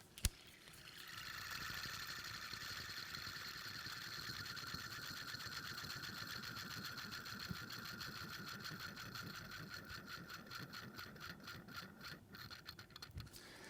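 Quiet whirring rotor of a Citizen Promaster NY0120-52E automatic watch spinning close up, a steady faint mechanical buzz with fine rattling texture running continuously throughout.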